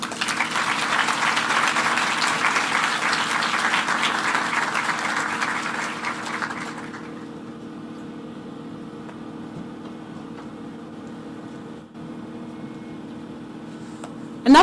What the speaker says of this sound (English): another round of applause to all of our sponsors